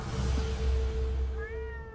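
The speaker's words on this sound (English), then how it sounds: "The meow scared the living fuck out of me." In the video game Ghostwire Tokyo, a cat gives a long, drawn-out meow, close and clear over a dense low ambient rumble of game background sound.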